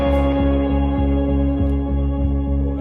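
A bass guitar plays a deep, steady line of repeated low notes with a rhythmic pulse, recorded close, with other instruments blending in.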